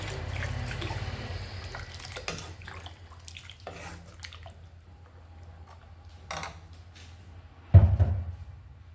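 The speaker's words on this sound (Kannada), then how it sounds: "ನಾನು ಸ್ವಲ್ಪ ನೀರು ಸೇರಿಸ್ಕೊಳ್ತೀನಿ." Water is poured into chicken gravy for rice mudde, with a soft trickling splash at first, then quiet pot and kitchen clatter, and a sharper knock near the end, all fairly faint.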